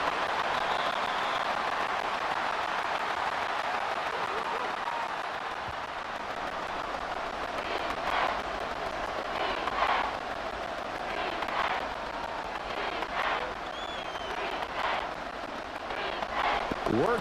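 A stadium crowd in the Madden 24 football video game roars as a steady, dense wash of cheering throughout, with a play-by-play commentator talking over it.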